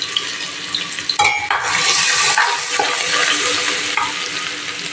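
Ginger garlic paste frying in a hot pan with cinnamon and cloves, a steady close sizzle with a sharp surge as the paste goes in and light stirring scrapes throughout.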